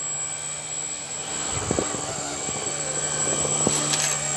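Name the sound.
Blade 150S electric RC helicopter flying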